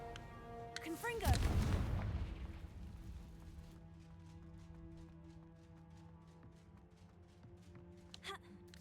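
Confringo blasting spell explosion in Hogwarts Legacy: a sharp boom with a rising magical whoosh, fading into a lingering rumble, followed by soft game ambience and a faint later crackle.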